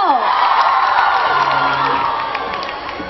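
Audience at a school reunion event cheering, whooping and applauding for a singer, a loud dense crowd roar that stays steady throughout and eases slightly toward the end.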